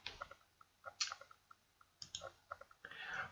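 A computer mouse clicks several times, sharp and close, while someone works in Microsoft Word, with short quiet gaps between the clicks.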